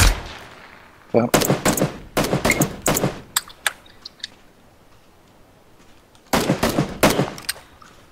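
Gunfire in PUBG comes in two bursts of rapid shots, each a string of sharp cracks with quiet gaps between, while a player briefly speaks underneath.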